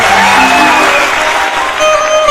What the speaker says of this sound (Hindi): तो मैं चाहूंगा कि उन बच्चों के भविष्य के लिए एक जोरदार ताली आप लोग बजा दीजिए।